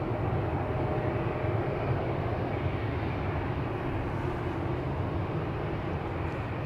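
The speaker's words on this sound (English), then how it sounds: "BizJet landing on runway 22." A business jet lands on runway 22 with a steady, moderately distant engine roar and rumble that holds evenly throughout, no voices.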